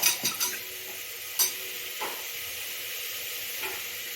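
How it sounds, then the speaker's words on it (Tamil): Ingredients for a cough-remedy decoction dry-sautéed in a pan without oil: several quick spoon scrapes and clinks at first, then a soft, steady sizzle carrying on quietly. "இது வந்து நல்லா ஒரு வதக்கிடுங்க"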